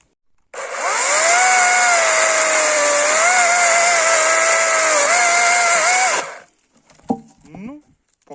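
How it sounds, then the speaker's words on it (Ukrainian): A chainsaw with a freshly sharpened chain idles with a loud, steady whine for about six seconds, then cuts off, leaving brief faint knocks and rustling. "прийшов із пилкою, пробуємо, що ж я наточив"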